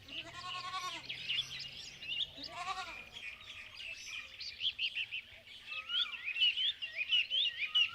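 Sheep bleat twice near a desert water hole in a retold story of the Prophet Moses, two wavering cries up close, followed by a dense chorus of chirping birds.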